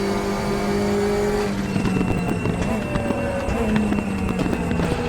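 A Group 5 race car engine at Bathurst in the Raceroom racing game, a loud, steady, droning engine note that drops and shifts in pitch partway through, with rattling mechanical texture and no talk.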